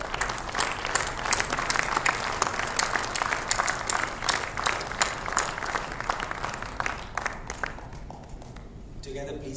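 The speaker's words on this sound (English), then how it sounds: "ladies and gentlemen, the team deserves a bigger applause" An audience at a hospital partnership event claps hard for a liver transplant team, with dense, sustained applause for about nine seconds that thins slightly near the end.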